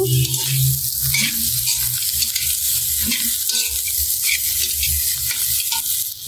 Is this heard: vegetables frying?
yes